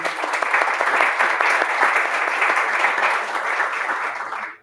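Audience applause at a Spanish book launch, a dense, steady clapping from a room full of guests that holds evenly for several seconds before cutting off abruptly.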